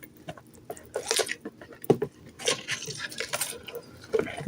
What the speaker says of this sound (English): I'm only going to stir until it's combined